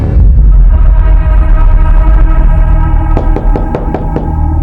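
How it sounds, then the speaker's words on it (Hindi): Rapid knocking on a door in a Hindi crime-drama scene: about half a dozen quick, sharp knocks come late, under loud, droning background music. "आलिया, दरवाजा खोलो।"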